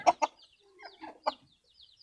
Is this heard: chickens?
yes